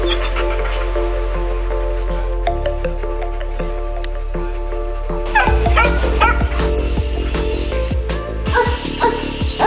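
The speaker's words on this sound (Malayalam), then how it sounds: "മൊത്തം എട്ട് നായ്ക്കളുണ്ട്," Several dogs on a mixed farm in Wayanad, including an Alsatian German shepherd, bark and yip in a dense, overlapping chorus, close and loud, growing busier partway through.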